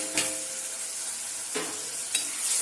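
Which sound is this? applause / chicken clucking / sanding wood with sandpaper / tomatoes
tomatoes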